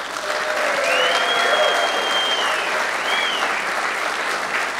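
A large crowd applauds at the 2022 International Open 9-ball pool final, a dense, steady wash of clapping that holds loud and close throughout, with a few faint whistles riding over it.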